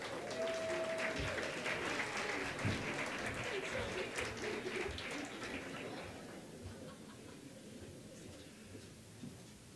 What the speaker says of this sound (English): how about a round of applause for both Delmy and Tom?